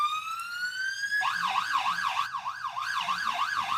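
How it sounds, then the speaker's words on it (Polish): An ambulance departing on a donation run to Kharkiv sounds its siren, first a rising wail, then a fast yelping warble that carries on steadily and fairly close, with no talk over it. "i karetka opuszcza nasze miejsca"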